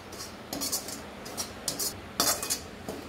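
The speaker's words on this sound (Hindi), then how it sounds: "लगातार चलाते हुए भूनेंगे।" A spoon stirs coriander roasting in ghee in a metal pan, giving close, bright scrapes and clinks in short bursts of three or four strokes, with no voices.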